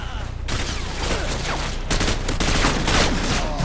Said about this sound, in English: Wow, I have a light machine gun.